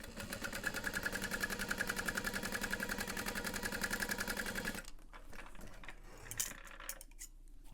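A sewing machine runs a fast, steady stitch for about five seconds while basting the bottom of a Charyn handbag shut. Then it stops, leaving quieter handling noises and a few light clicks.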